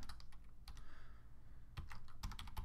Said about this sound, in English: So let me type it.